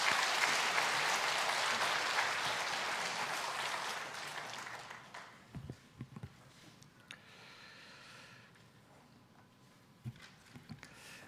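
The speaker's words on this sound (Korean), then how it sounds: "우리 선교사님 나오실 때 뜨거운 박수로 환영해 주시면 감사하겠습니다." Church congregation at a Sunday afternoon service applauds a missionary coming forward, a loud, dense wash of clapping that fades out after about five seconds, leaving a quiet hall with a few thumps.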